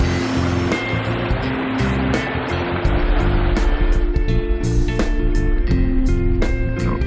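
Water spilling from a biofalls into a backyard recreation pond, a loud, steady close splash and rush that swells slightly partway through, with no talking.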